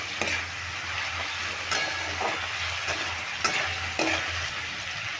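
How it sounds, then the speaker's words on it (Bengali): Papaya and chana dal with salt and turmeric sizzle in a pan while a spoon stirs them. The hiss is steady and close, broken by several sharp scraping knocks of the spoon against the metal, and no one speaks. "এবার নুন আর হলুদটা দিয়েও ভালো করে নেড়ে নেব"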